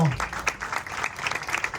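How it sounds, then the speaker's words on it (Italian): Crowd applause rises over a busy hall at a sports awards ceremony, with an amplified voice talking over the clapping. "Eccolo qua, un applauso"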